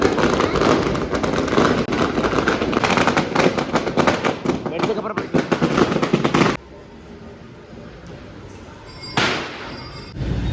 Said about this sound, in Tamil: ஸோ பட்டாசு வெடிக்க போகிறாங்க.